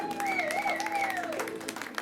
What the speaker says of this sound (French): Applaudissez très fort le petit clown